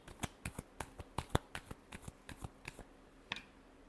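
Tarot cards being shuffled close up, about fifteen crisp, quiet flicks and snaps in a quick, slightly uneven rhythm.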